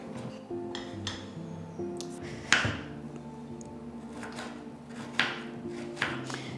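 Knife work on onion for a South Indian banana flower curry, a handful of separate sharp cuts and clinks spaced a second or two apart, quiet and close with a low kitchen hum beneath.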